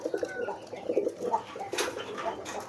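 A young pigeon in training gives a series of close, soft, throaty coos, repeating in an uneven rhythm with no other sounds competing.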